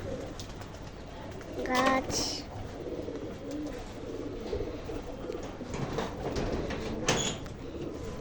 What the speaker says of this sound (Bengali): আজকে আমার বাবা আর আমি কবুতর খাওয়াইতাছি।